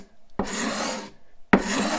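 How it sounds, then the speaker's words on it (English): Two long rasping strokes of a hand tool scraping across tough wood, each starting with a sharp attack and separated by a brief pause. The scraping is close and clear, with no talk. "Scraping."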